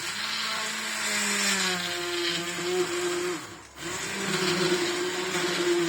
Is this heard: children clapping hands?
no